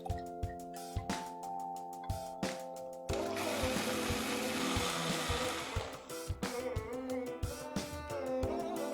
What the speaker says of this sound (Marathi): आपण मिक्सर मध्ये हे बारीक वाटून घेऊया।